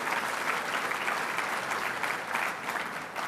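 Audience at a Seattle business chamber's annual meeting applauding steadily, a dense sustained clapping from a large room with no talk over it.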